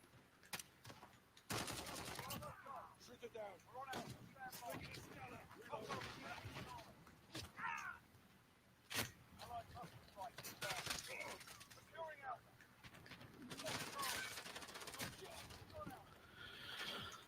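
Gunfire from a .45 in a video game map, with scattered sharp shots and bursts mixed with horse whinnies, hoofbeats and birds in a busy game soundscape, while someone talks throughout.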